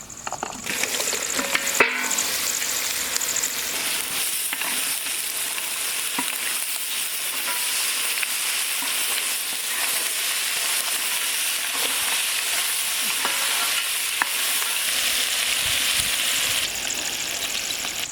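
Boiled mutton fries in a pan for a green mutton haryali curry: a loud, continuous sizzle with spatula stirring and scraping throughout, and a sharp clatter near the start as the meat goes in.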